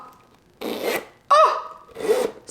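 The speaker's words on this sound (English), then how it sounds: "And then also this zipper," The zipper on a Louis Vuitton Nano Speedy bag is pulled in three short, close strokes, each a smooth rasping slide separated by brief pauses.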